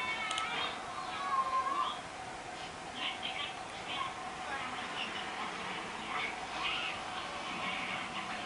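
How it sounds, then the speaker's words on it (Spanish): A cute cat meowing: a few faint, brief high mews rise over a dense background of music and effects, with someone talking over them. "Solo es un gato lindo. Míralo."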